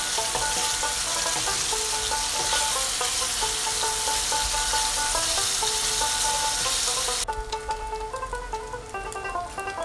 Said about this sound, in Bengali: এবার পনিরটা ভালো করে ভেজে নেবো।